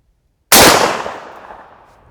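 A single loud, close shotgun blast firing a standard nine-pellet 00 buckshot load through an improved cylinder choke, with a sharp onset and a decaying outdoor tail.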